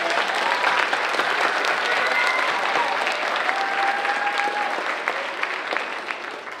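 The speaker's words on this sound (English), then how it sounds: "one more round of applause" Sustained audience applause at a school award presentation, a steady wash of many hands clapping that holds for several seconds and eases slightly toward the end.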